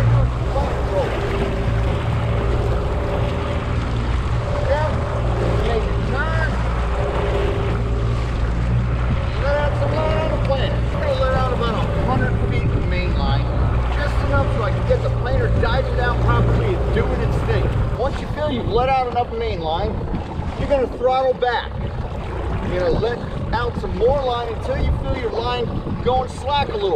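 A fishing boat motor drones low and steady at slow forward speed while trolling for most of the stretch, with wind and water noise, then fades as someone speaks.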